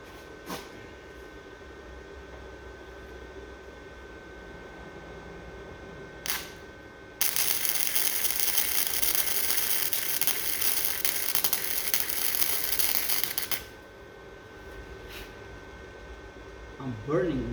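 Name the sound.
first welder burning metal while welding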